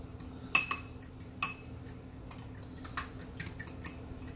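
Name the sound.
stirring cinnamon into French toast batter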